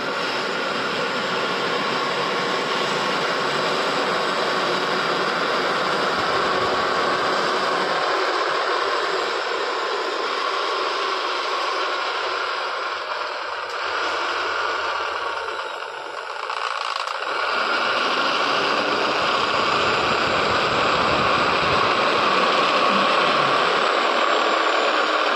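Sewing machines running nonstop in a nightie garment factory, a loud, dense mechanical whir and hum that fills the space, with no clear talk.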